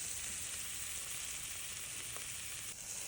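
Onion frying in a small amount of hot oil in a pan gives a steady, even sizzle throughout, with a faint tap or two near the end and no talking.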